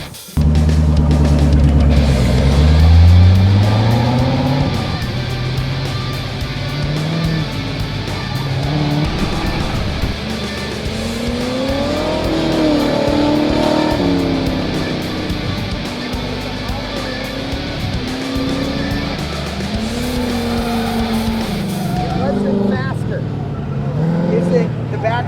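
A hot rod Corvette racing with its tires sliding and squealing while the engine winds up and down through repeated revs, loud and sustained, with voices talking over it.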